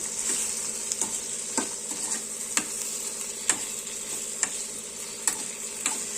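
Salted tomato pachhadi stirred in a pan, a steady sizzle broken by regular spoon scrapes against the pan roughly every second, close and moderately loud with no talking.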